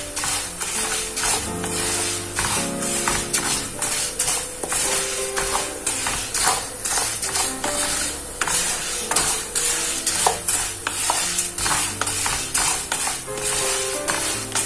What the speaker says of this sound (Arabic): غنحركو مزيان حتى دابا راه بدا كيتحمر